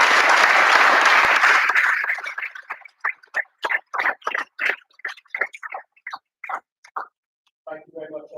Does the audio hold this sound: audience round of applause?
yes